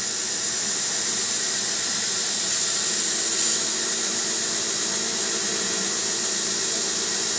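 A cotton candy machine's spinner head runs with a steady, loud airy hiss and whir that holds evenly throughout, with no talking.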